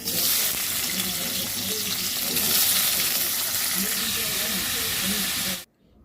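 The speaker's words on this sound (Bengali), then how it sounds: "চলো এখন সবজিটা বসিয়ে দিই আলু কুমড়োর তরকারি পাঁচফোড়ন ফোড়ন দিয়ে" A potato and pumpkin curry cooks in a pan with a panch phoron tempering, a steady close sizzle and hiss of frying with light stirring, cutting off abruptly near the end.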